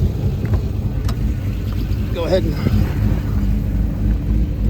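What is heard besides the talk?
2002 Pontiac Trans Am WS6 engine idling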